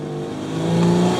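A modified sedan engine with an external wastegate accelerates hard, a rising, steady engine tone swelling louder over about a second, close to the microphone, with no talk heard.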